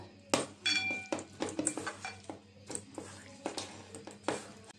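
Pangas fish pieces being mixed by hand with turmeric and chili in a metal bowl, giving irregular clinks and clanks against the bowl with soft wet handling between, under a low steady hum.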